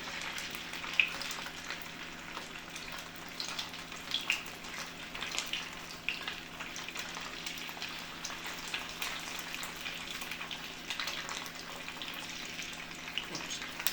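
Parmesan polenta cakes topped with asiago pan-frying until crisp, a soft, steady crackling sizzle with scattered tiny pops, continuous and fairly quiet throughout.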